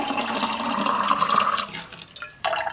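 Hot water is poured quickly into a jar in a sink while making borax crystals, a loud gushing splash that tapers off, then a brief pause and a short final splash of water.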